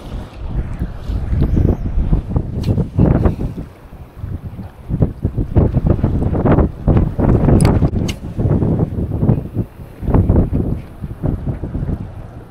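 Strong wind buffets the microphone at the rocky water's edge during a fishing outing, loud roaring gusts in uneven bursts with no clear talk.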